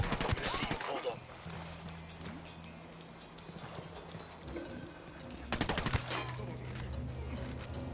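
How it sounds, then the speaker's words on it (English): Bursts of video game gunfire, a rapid volley at the start and another midway, with ambient game sounds and a low hum between. "Must have heard the gunshot."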